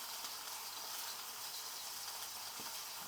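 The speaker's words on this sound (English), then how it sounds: "We got them on because we want that to sear up." Portobello mushrooms sear in a hot frying pan, giving a steady, close, even sizzle with a faint crackle that holds at the same level throughout, with no talking over it.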